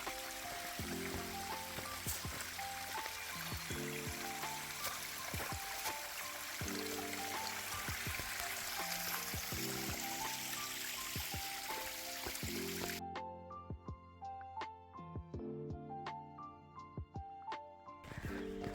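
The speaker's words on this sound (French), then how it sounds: "C'est apaisant hein, ce bruit de l'eau." Gentle flowing water trickles steadily, a soft continuous babble like a small cascade, with faint musical tones and clicks layered over it.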